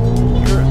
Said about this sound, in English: Fighting for traction, and it's just sliding.